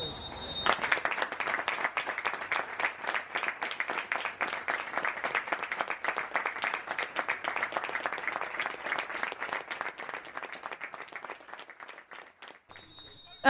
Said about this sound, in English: We're going to do a quick minutes applause now